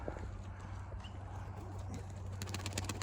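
Pigeons kept for rehoming coo in a low, steady drone close by, with light ticking and clicking sounds joining near the end.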